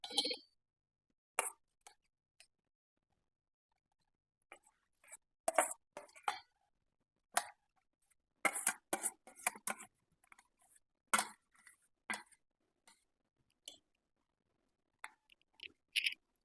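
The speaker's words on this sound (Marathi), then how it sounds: "मी ते पातेल्यामध्ये काढून घेते इथे मी पितळेचं पातेलं घेतलेलं आहे" Cooked dal moved from a cooking pan into a brass pot: quiet, scattered scrapes and metallic clinks of a spoon against metal, coming in short irregular bursts with near-silence between them.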